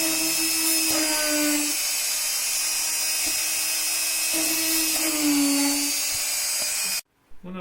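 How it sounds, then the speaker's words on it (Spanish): A small electric drill bores holes through a printed circuit board, a steady high-pitched whine that dips under load in repeated bursts as each hole is drilled, close and loud, before cutting off abruptly. "procedemos a hacer los agujeros en la placa para posterior a eso soldar los elementos que tenemos"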